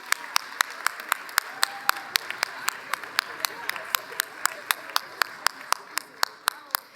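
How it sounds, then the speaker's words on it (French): At a volunteer parents' recognition ceremony during an annual congress, a crowd applauds in a soft steady patter while one nearby pair of hands claps loudly and evenly, about three sharp claps per second, throughout. "Une bonne main d'applaudissements pour nos parents engagés 24-25."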